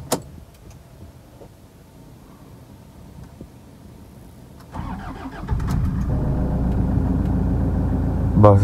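A Vigo car starting up: quiet background noise, then the engine cranks and catches, settling into a steady, close idling rumble.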